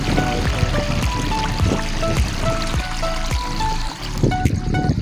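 Water from a small pond runs over a little waterfall, a continuous close rushing and trickling flow with splashy bubbling detail throughout, fairly loud, with no talking.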